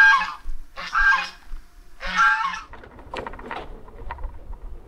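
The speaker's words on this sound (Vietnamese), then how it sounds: "hai ngỗng dễ thương kìa" Two geese give three loud, close honks in a row, followed by softer rustling and scattered small sounds.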